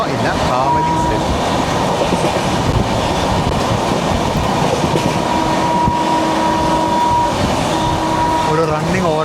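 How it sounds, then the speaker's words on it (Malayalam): The Howrah–Bangalore Duronto Express runs through Kavali station at speed, a loud, continuous rumble and clatter of wheels on rails close by, with a sustained horn-like tone, filling the whole stretch. "ഹൗറ ബംഗളൂരു ദുരന്തോ എക്സ്പ്രസ് ആണ്. കാവാലി സ്റ്റേഷനിലുള്ള റൺ ത്രൂ ഇപ്പോൾ."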